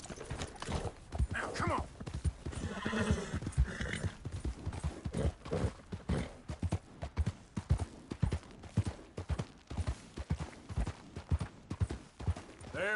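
Horse hooves clip-clop in a fast galloping rhythm in Red Dead Redemption 2, steady and close, with a brief whinny and someone speaking a few words over the hoofbeats.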